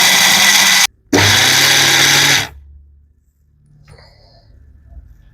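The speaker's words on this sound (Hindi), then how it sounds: "ये 250 ग्राम अखरोट है। ठीक है, चलो इसको भी पीसते हैं" Walnuts, 250 g, ground to powder in an electric grinder: a loud steady whir that cuts out for a moment, resumes for over a second, then stops, leaving faint low rumble.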